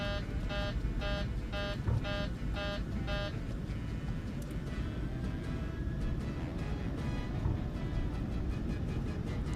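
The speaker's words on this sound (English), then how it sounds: "I'm sure the first class passengers love hearing all the alert sounds through the door" In a flight simulator game, cockpit alert beeps pulse in a rapid repeating pattern over a steady low engine drone, then stop after a few seconds and leave only the drone.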